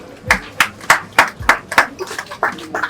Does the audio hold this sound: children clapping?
yes